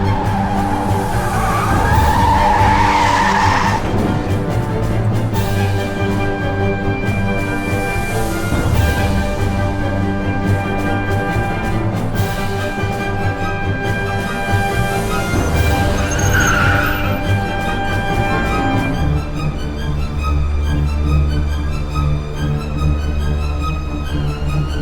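Car brakes and tires skid and squeal at length in the Mafia: The City of Lost Heaven game, loud and close over a steady engine roar, with screeching bursts rising and fading across the stretch.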